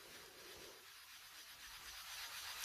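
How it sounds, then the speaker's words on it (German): Sonax sanding pad rubbed back and forth over a scratch in car paint, a close, soft, raspy scraping that carries on continuously and fairly faintly. "Man merkt richtig, wie die Schleifblüte über den Kratzer, über die Kanten hier hin und her gleitet und daher kommt dieses raue Geräusch."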